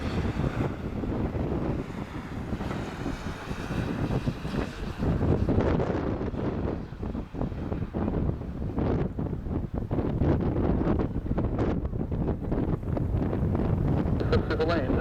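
Strong gusting wind roars continuously during a Lufthansa airliner's landing approach at Madeira Airport, a loud broadband buffeting that swells and dips throughout, with faint radio voices underneath.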